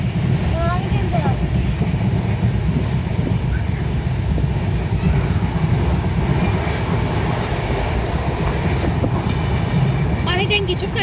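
A passenger train running through tea garden country, a steady loud rumble and rattle of wagons on the rails throughout, with a few faint voices and a brief squeal near the end.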